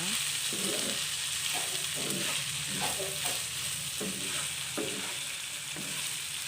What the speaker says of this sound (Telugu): సాల్ట్ వేసుకున్న తర్వాత కూడా ఒకసారి కలుపుకొని వేయించుకోవాలి